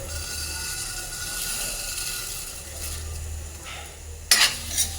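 Whole spices, namely black mustard seeds, radhuni, panch phoron and fennel, fry in a pan with a soft, steady sizzle and light stirring scrapes, ending in a sharp metallic clatter.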